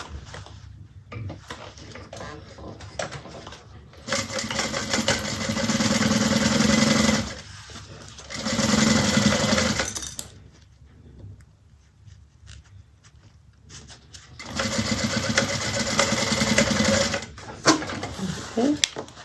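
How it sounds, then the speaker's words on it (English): Sewing machine stitching down the side of a Scottie convertible bag, running in two or three steady bursts of several seconds each with quiet pauses between, close and fairly loud. "we're gonna sew this side down"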